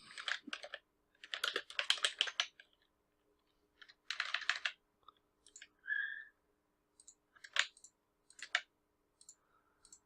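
Computer keyboard keys typed in quick bursts of clicks, with pauses between runs, close and fairly quiet, no talk, while fields are filled in on a WordPress theme page.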